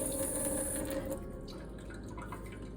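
Water trickles and drips steadily while being added to conditioner during a paper-craft shoe project, a close, continuous wet patter with no talking.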